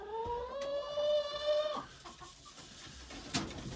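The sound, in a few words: chickens clucking at feeding time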